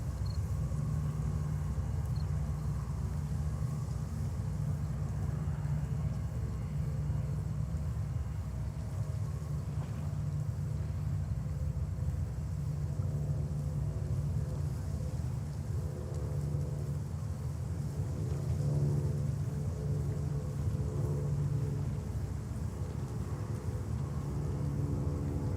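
An airliner arriving from Lisbon lands at JFK Airport in New York, a steady low rumbling roar that holds for the whole stretch at moderate distance, with no talk.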